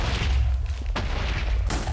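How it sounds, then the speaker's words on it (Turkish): TNT blowing up in Minecraft, with heavy booming blasts, a deep rumble throughout, and two sharp detonations near the middle and end, close and loud. "Bir dakika, şurada patlamayan TNT var. Tamam, o da patlasın."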